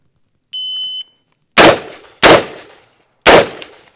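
A short electronic beep, then three loud gunshots, the first two close together and the third after a pause, each with a brief echoing tail.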